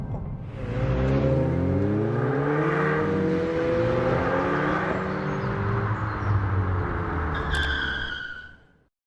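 A 2022 Hyundai i20N hot hatch accelerates hard, its engine note climbing through several rising gear sweeps with short drops at each shift, loud and close before fading away.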